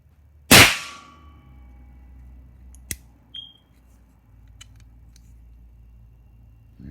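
A Remington rolling block rifle fires a single blank, giving one sharp, loud report that rings briefly into a fading tail, followed by a few small metallic clicks against quiet room tone.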